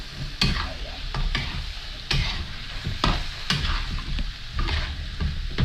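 Repeated scraping strokes of a utensil stirring food with soy sauce in a frying pan, over a steady sizzle of frying.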